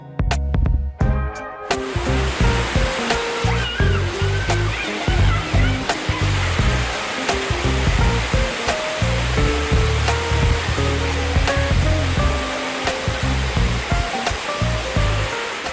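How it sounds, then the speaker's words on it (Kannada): The Bangara Kusuma forest waterfall pours in a steady, loud, broadband rush that runs the whole time, with a voice and tonal background sounds layered over it. "ಬಂಗಾರ ಕುಸುಮ ಜಲಪಾತ ಆಕರ್ಷಣೀಯವಾಗಿದ್ದು"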